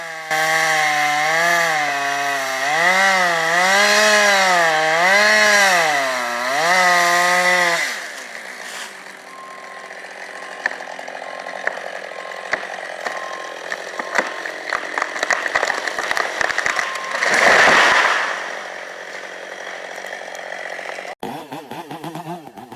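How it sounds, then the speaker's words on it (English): A loud chainsaw revs up and down, its engine whining in waves, then bites into wood with a rough, grinding rasp that swells and fades. "The sharp chainsaw screamed, its blade biting deep into the dense wood"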